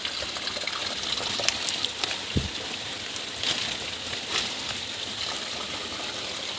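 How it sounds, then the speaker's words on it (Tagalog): Steady broadband water flowing from a pipe, trickling and splashing in a continuous rushing wash with a few brief louder spatters, close by and without voices. "Umaagos yung tubig"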